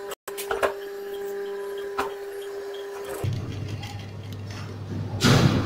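A sewing machine stitches the shoulder seam of a wide shawl-collar winter coat, humming steadily at first, then shifting to a lower, rougher whir with light mechanical clicks near the end.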